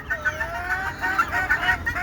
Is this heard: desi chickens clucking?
yes